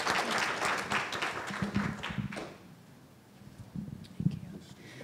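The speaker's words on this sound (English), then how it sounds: "But if you can just join me in a round of applause just one last time for Drs. Nicol and Samad" A burst of applause fades out after a couple of seconds, followed by a few scattered claps and murmuring talk in a room.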